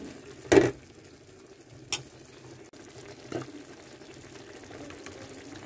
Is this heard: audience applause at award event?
no